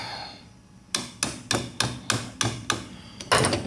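Cracked tube cap tapped with a tool, about nine sharp, dull knocks in a steady rhythm, close and fairly clear over faint background noise.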